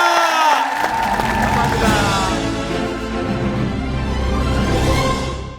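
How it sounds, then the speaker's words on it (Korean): A television studio audience on a Korean variety show bursts into loud, sustained cheering and crowd noise with shouts over a music sting, staying dense and close for the whole stretch before cutting off. "스타킹을 만들어준 두 분에게 여러분들 큰 박수가 필요합니다."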